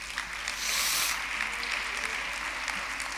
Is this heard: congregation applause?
yes